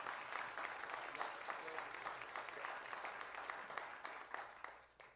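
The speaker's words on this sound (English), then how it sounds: "Let's clap." A church congregation applauds steadily for several seconds, a dense, even wash of many hands clapping at moderate volume with no speech over it.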